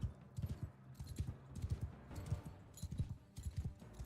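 Horse hooves clop in quick repeated pairs during a battle in the video game Mount and Blade: Bannerlord, a steady galloping rhythm at moderate level with no talk.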